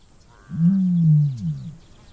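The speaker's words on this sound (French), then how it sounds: "L'autruche ne chante pas comme les autres oiseaux. Les sons qu'elle émet ressemblent davantage à des sifflements, des grognements ou des mugissements." A male ostrich gives a booming call to a female: one deep, resonant, drawn-out low boom that swells and fades over about a second, fairly near, with a weaker second pulse and no talk.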